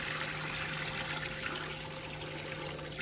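Recycled shower water runs and splashes steadily inside a tiny campervan, a soft continuous hiss over a low mechanical hum.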